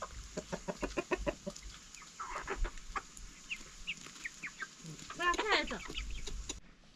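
Chickens cluck close by while being fed grain, a busy run of short repeated clucks with a louder burst of calls near the end, over quiet background murmuring.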